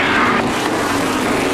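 Stock cars running side by side in a 2008 A&W 300 race, a loud continuous engine roar filling the whole moment with a dense, steady drone.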